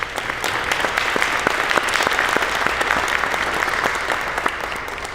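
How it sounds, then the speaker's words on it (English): Audience claps for a guest at a civic gathering, a dense, even burst of applause with sharp individual claps standing out, close and fairly loud, no talking. "please give her a round of applause"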